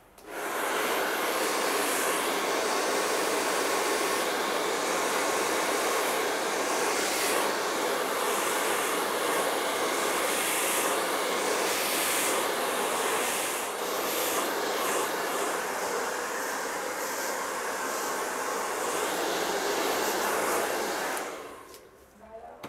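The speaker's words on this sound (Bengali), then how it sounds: "তো দেখতে থাকুন ড্রায়ারটা করছি।" A hair dryer blows steadily on a freshly cut and styled zero-fade men's haircut, a loud continuous rushing whoosh that runs unbroken for about twenty seconds before cutting off.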